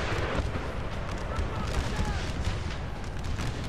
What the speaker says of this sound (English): Oh, massive mortar hit.